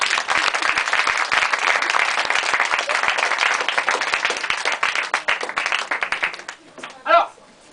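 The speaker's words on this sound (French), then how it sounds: "on peut l'applaudir bien fort" Audience applause at a live show at La Plomberie in Rennes, a sustained burst of dense clapping that fades out near the end, followed by a brief voice.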